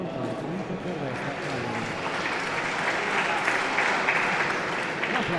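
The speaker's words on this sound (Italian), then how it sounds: "l'applauso intanto è sentito" Warm crowd applause in an indoor raffa bocce hall during a Serie A league match, continuous clapping held at an even level from start to finish.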